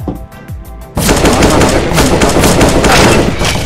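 Loud, dense automatic gunfire from a Counter-Strike: Global Offensive match with an AUG rifle in play, a few scattered shots giving way after a second to a continuous, heavy burst that runs to the end.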